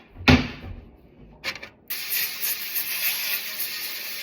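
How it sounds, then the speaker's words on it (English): A sustained hiss of cooking spray onto a sheet pan runs for a couple of seconds after a few brief knocks and rustles, close and steady. "I'm going to spray everything first with some cooking spray."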